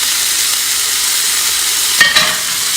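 Butter sizzling in a hot skillet before cinnamon roll French toast goes in, a steady close hiss of frying with a short scrape of stirring near the end.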